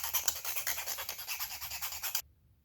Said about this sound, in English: I got a little file here